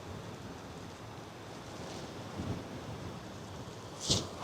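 Ocean waves breaking against the base of coastal cliffs in Portugal, heard from a distance as a low steady surf roar with wind buffeting the microphone and a sharper splash or gust near the end.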